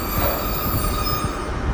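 A Class 150 diesel train, unit 150-246, rumbles steadily at Exeter St David's station, a dense low mechanical roar with faint wheel squeal above it and no voices.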